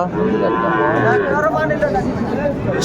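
Several young bull calves mooing repeatedly and close by, their drawn-out lowing overlapping with a murmur of voices in the background.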